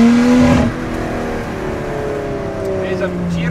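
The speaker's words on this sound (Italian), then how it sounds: "Questo V6 qua è qualcosa di" The V6 engine of a Lotus Exige revs and then falls away, a rising tone that drops into a lower, steady drone, with someone speaking faintly over it.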